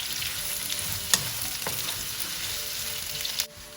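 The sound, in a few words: onions frying in a pan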